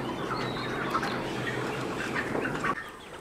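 Chickens on the ground floor of a broiler poultry shed, a dense steady chorus of low clucks and murmurs from many birds close by, with a few sharper calls rising above it.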